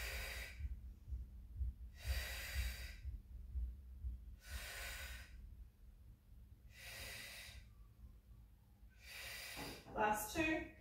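Steady, rhythmic breaths during a reformer Pilates full-body workout with a joined band: five broadband bursts roughly every two seconds, close and fairly loud over a low hum, ending in a brief rustle.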